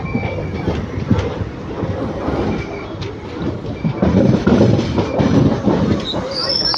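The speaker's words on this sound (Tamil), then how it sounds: "ஐயோ செம்ம கூட்டமாக வருதுங்க வண்டி." A crowded train pulling into Tiruppur Junction gives off a steady, broadband rumble with rhythmic wheel clatter on the rails that swells louder near the end, mixed with faint background voices on the platform.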